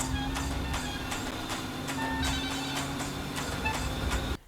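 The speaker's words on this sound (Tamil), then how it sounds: "ரொம்ப நேரம் ஃபோன் அடிக்குமாப்ல" A telephone rings repeatedly in a steady electronic pattern, close by and clear, over a low hum, cutting off abruptly at the end.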